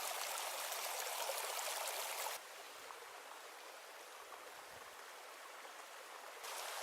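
Steady broadband rush of Big Arroyo Creek flowing in Sequoia, partly iced over, continuous and fairly close, with the level dropping slightly partway through then rising again.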